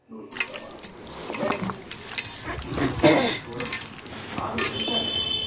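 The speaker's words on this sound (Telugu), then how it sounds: "అంత బాగా కలుపుకొని ప్రతి ఒక్క ముక్కకి బాగా అంతా పట్టేలా అంతా నీట్గా కలపాలండి" Marinated pieces being stirred and tossed in a metal pot, with clinking utensil scrapes and wet squelches repeating in an irregular rhythm, close and moderately loud.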